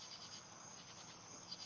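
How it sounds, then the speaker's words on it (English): Crickets chirp steadily outdoors in a small town at night, a faint high continuous trilling with a few brief brighter chirps, no voices over it. "You hear the crickets?"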